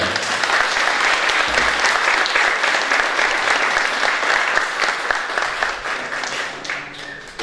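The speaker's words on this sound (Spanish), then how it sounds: "Fuerte el aplauso para él." Sustained audience applause at a conference on huapango arribeño music, dense and even clapping from a full room that holds steady for several seconds before easing slightly near the end.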